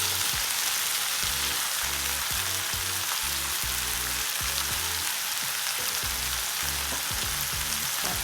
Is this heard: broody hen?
no